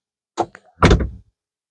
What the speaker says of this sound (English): tap my foot on the brake, and voila, the door closes.